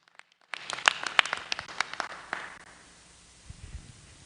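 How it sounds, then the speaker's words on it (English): Audience clapping at a theological seminary graduation ceremony in 2024, a burst of distinct, fairly close hand claps that fades out after a couple of seconds, followed by quiet with faint low thumps. "Why don't we give him a hand clap as he comes over?"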